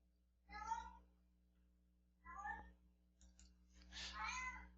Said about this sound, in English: that's totally my cat right now.